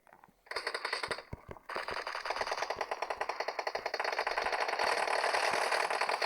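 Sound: gunfire in the video game PUBG

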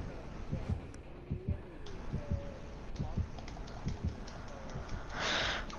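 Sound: heartbeat warning sound from the video game Friday the 13th

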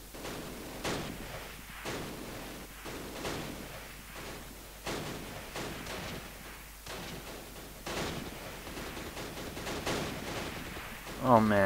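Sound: heavy gunfire in Close Combat video game

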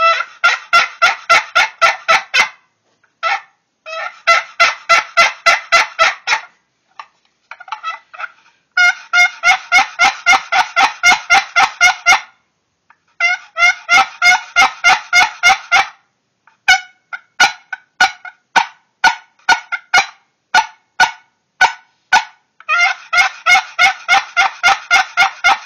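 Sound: cedar box turkey call being played

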